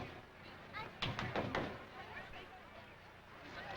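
Four quick tap shoe beats, toe then heel, the opening of a tap dance cramp roll. They land as sharp close clicks and thuds in the middle of a muffled, noisy room.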